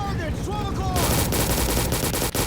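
Rapid gunfire from the Roblox shooter RECOIL, a dense burst of repeated shots filling the clip, with brief whistling tones at the start and a short dip near the end.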